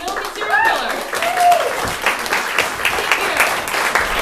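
Audience applause for an improv troupe at a comedy venue, a steady wash of clapping from a crowd lasting several seconds, with a few brief voice sounds over it.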